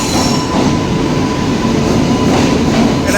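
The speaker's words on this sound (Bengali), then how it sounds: "এটা একটা ট্রেন ঢুকছে" A train from Chennai Central pulls into Thiruvananthapuram Central station, a loud, close, continuous rumble of rolling wheels with a faint squeal running through it.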